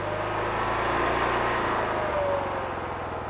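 A BCS 630 WS flail mower's small engine runs steadily and loud, its revs shifting slightly as the hand throttle is turned, with a continuous mechanical drone and no talk.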